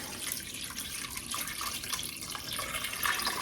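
Water pours steadily into a pot of beef short ribs, a continuous splashing, trickling stream that stays close and fairly even for a few seconds with no talking over it.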